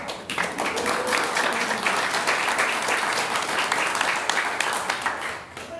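Audience applause fills a live community talk event in San Diego, with dense, steady clapping that holds loud throughout and eases slightly near the end.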